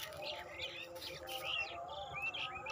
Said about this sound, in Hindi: तो ये टिटिहरी चिड़िया